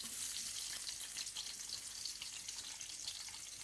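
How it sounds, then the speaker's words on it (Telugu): Lengthwise-sliced onions fry in two tablespoons of hot oil in a kadai over a high flame, a steady, loud crackling sizzle that holds unbroken throughout with no voices. "బారుగా కట్ చేసుకున్న ఆనియన్స్. హై ఫ్లేమ్ మీద వేయించుకోవాలండి."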